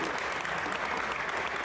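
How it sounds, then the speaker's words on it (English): A crowd gives a round of applause for the Shelby American team at the company's garage, with steady, dense clapping that runs evenly throughout. "Let's give these guys a huge round of applause."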